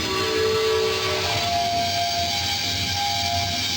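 A steady whistling tone in the video game realMYST, a sustained pitched whistle over a constant hiss, with one tone fading out and another rising partway through, no talk.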